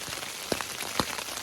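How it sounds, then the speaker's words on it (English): Rain pattering on a tent, a soft, faint steady hiss broken by a few sharper drops landing on the fabric. "Oh man, I hate taking down a tent in the rain."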